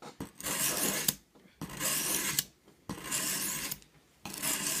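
Rasping strokes of a knife blade against a sharpening file, in four long loud scraping passes separated by brief pauses, close and with no talk.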